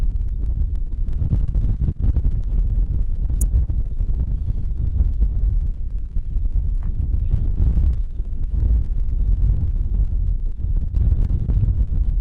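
Steady, loud wind outdoors in Yakutia buffeting the microphone, a continuous low rumbling roar with gusty surges and no voices.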